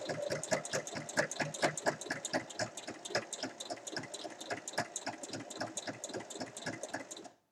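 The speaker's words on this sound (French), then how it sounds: "Donc là, je surpique tout le tour et je laisse bien sûr une ouverture." A sewing machine topstitches around the edge of a round baby cushion, its needle chattering in a fast, steady run of close stitches, loud and near, then stopping at the end.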